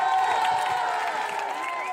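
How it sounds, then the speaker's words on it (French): A crowd gathered outside a newly elected mayor's office in Bourges, France, cheering and applauding in a steady, fairly distant wash of voices and claps, with a reporter's voice talking over it. "Acclamé par la foule rassemblée devant sa permanence, Yann Gallu savoure sa victoire"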